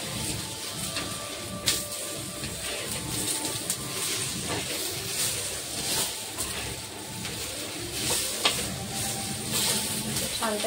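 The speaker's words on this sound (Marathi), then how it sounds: "यातच आपण टोमॅटो पण भाजून घेऊया" Tomatoes roast in a pan while preparing duduk wada bhaji, giving a soft, steady sizzle with occasional faint stirring clicks, fairly quiet throughout.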